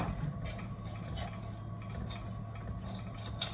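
A spoon scrapes and stirs gram flour roasting in ghee in a pan, soft repeated scraping strokes at an uneven rhythm, close and fairly quiet.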